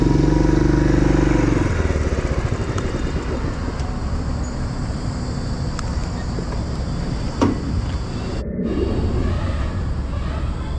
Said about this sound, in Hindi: पार्किंग में खड़ी करते हैं बाइक को